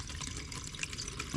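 Spring water runs steadily at a roadside spring where locals fill containers, heard as a faint, continuous watery wash with no one speaking.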